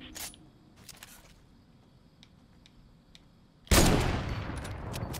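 Fortnite gunfire: a few faint, sparse gunshot cracks and clicks early on, then a loud burst of rapid fire partway through that stays dense and noisy to the end.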